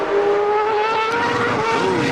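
CART race car in Portland qualifying slides through a corner, its engine note sustained loud and close while the tires squeal steadily alongside, with no talk over it.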